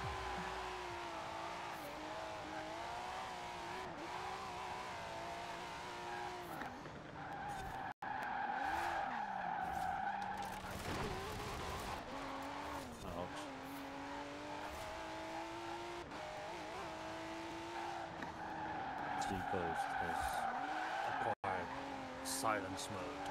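Drift cars road racing in Forza Horizon 4, with steady engine drone, revving and long tire squeals and skids running throughout, while a voice talks over the racing.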